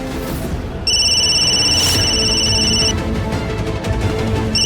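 A mobile phone left behind at home rings with loud, steady electronic tones that start after a short pause, ring for about two seconds, stop, then briefly start again at the end over low room noise.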